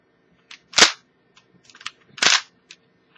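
Two sharp electronic zaps from a Kamen Rider OOO DX OOO Driver toy belt scanning medals, each with a short trail of chirpy beeps, close and clear.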